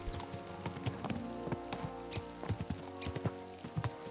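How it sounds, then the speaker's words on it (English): Horses trot in the video game Kingdom Come: Deliverance II, with a steady rapid clip-clop of hooves close by over a low background bed. "Let's really spur these horses on, eh?"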